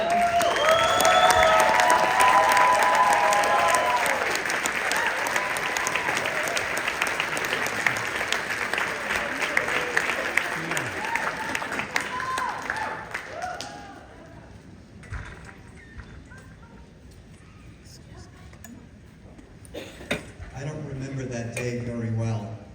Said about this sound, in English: So I want everyone to stand to your feet, give a big round of applause for Dr. Stephen Szabo.